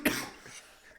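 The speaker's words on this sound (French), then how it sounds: "on dirait que j'ai 70 ans, j'arrête pas de tousser" A single sharp, close cough bursts out and trails off quickly, with no words spoken around it.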